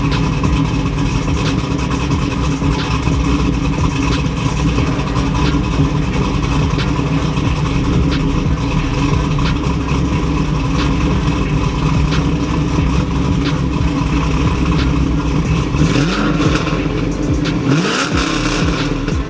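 An F-Body car engine fitted with a new cam idles at a raised RPM, a steady, loud, rumbling idle with a faint lope that runs unbroken for nearly twenty seconds.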